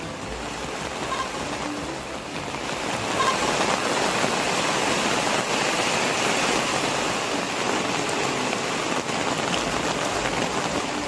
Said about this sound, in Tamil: நாகை மாவட்டத்தில் பல்வேறு இடங்களில் காற்றுடன் கூடிய கனமழை